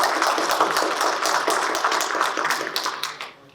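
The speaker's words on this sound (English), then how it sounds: "let's go ahead and give a round of applause for them" An audience at a talk on Indigenous communities gives a round of applause. Dense, crisp clapping holds steady, then thins and fades out near the end, with no voices over it.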